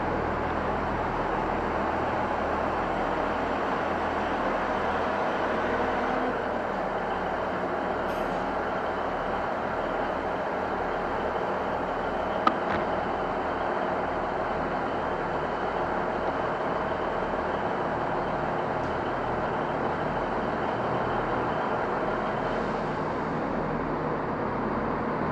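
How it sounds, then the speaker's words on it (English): A double Class 170 diesel unit pulls away toward Lime Street, a steady broad engine and wheel rumble continuing throughout with a brief sharp click midway. "Train at departing is a double 170 going to Lime Street."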